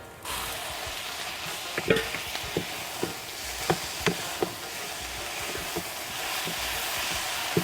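Jute greens hitting a pan of hot oil, a steady frying sizzle broken by a string of sharp spoon scrapes and clinks against the pan, close and fairly loud.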